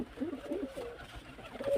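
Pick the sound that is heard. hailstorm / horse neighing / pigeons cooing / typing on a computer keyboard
pigeons cooing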